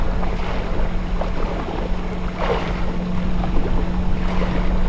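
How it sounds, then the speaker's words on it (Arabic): Steady wind rushes and buffets the microphone outdoors at a rocky shore fishing spot, a constant broadband roar with a low hum underneath. "هو في هوا زي ما انت شايف"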